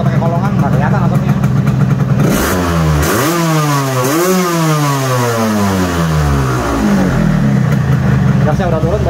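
A Yamaha RX King two-stroke motorcycle engine revs loudly at close range, its pitch sweeping up and down in repeated throttle blips and settling back toward idle.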